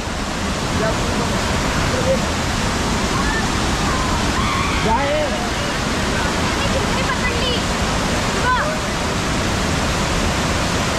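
Savatkada waterfall near Rajapur, Ratnagiri in the Konkan, swollen with rising water and strong flow, a loud, constant roar that fills the whole clip, with faint voices beneath it.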